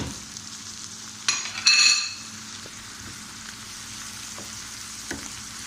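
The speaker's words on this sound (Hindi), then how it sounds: "ये टमाटर गलने तक पकाएंगे।" Tomatoes and green chilies frying in a pan with a steady sizzle, with a louder burst of spitting and stirring near the start, then a continuous low crackle; no voices.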